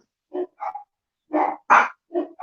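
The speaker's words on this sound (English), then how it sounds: "Okay, the dogs are getting fired up." Several dogs bark nearby in short, loud bursts, about six barks arriving in an uneven rhythm with brief gaps between them.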